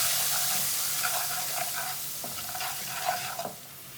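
Browned onions and spices fry in a pan while being stirred, a close, steady sizzle broken by scraping spoon strokes that eases off near the end, with no talking.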